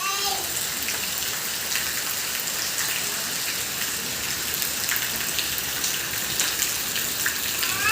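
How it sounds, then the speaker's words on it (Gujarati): Rain starts falling after a small storm with strong wind, a steady, dense hiss of drops that fills the whole stretch evenly and close by, with no voices over it. "વરસાદ થઈ ગયો છે શરૂ."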